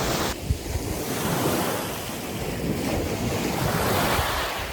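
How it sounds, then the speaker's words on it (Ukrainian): Sea waves wash onto a hotel beach on the Makarska Riviera in Croatia in the evening, a steady broad roar of surf with gusty wind buffeting the microphone throughout. "ось так виглядає пляж від готелю, а, той, що не біля басейну, а вже більше біля моря"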